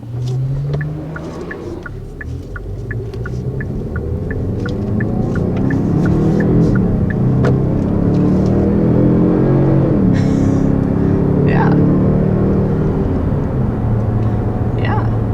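A 2021 Kia Stinger with the turbo four-cylinder accelerates hard through a corner, its engine note rising and holding as a steady close drone beneath continuous talking.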